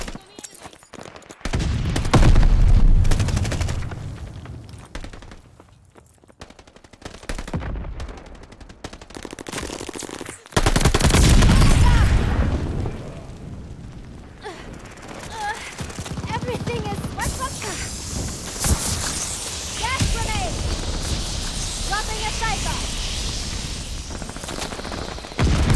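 Rapid automatic gunfire and explosions in Call of Duty: Vanguard multiplayer, an SMG firing loud sustained bursts with heavy booming impacts, dense and continuous with game voice callouts mixed in.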